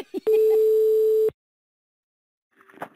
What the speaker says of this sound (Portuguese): Eu vou ligar pra Corrinha